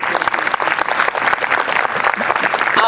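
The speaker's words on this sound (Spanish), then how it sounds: "un fuerte aplauso para ellos" Audience applause at a creators' session, steady dense clapping filling the whole stretch with no pauses, close and loud.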